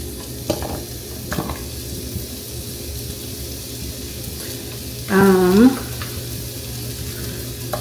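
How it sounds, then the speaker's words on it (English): Onions sauté in a pan at home with a soft, steady sizzle. Faint clatter sounds early on, and a short, wavering hummed tone rises over the frying partway through. "Just put the onions in, kind of saute them up a little bit."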